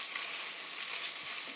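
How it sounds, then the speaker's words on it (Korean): Beef and vegetables stir-frying until golden for a beef roll filling, a loud, continuous hissing sizzle throughout with a couple of soft stirring bumps near the end, and no voices. "고기와 채소가 노릇노릇하게 될 때까지 볶아주세요"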